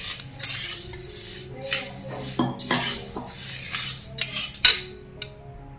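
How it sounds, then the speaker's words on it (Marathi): Moong dal dry-roasting in a pan, a spoon scraping and clinking against the metal in scattered strokes, moderately quiet, with the light rustle of the lentils between stirs and no voices. "आता आपण मुगाची डाळ भाजून घेऊया"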